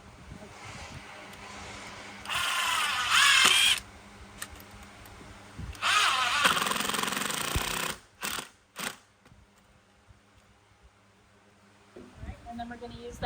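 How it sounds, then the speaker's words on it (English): Power drill driving pocket screws into the legs of a DIY patio table, two sustained whirring runs of a few seconds each, then short bursts, close by, with talk around them. "there will be no way for us to drive the pocket screws on"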